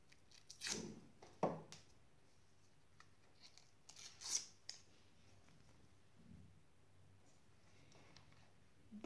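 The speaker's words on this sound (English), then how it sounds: "Scissors to cut these." Scissors cut through packaging while a Razer Man O' War headset is unboxed, with a few crisp snips and rustles spaced apart, close up and fairly quiet.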